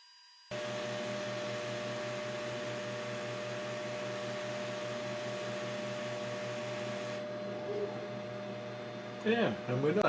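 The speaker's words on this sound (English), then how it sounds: "we've got a nice draft created by the extraction fan" Extraction fan on a laser engraver etching wooden flowers runs with a steady, close hum and whir, its tone shifting slightly partway through, ending with a few brief clunks.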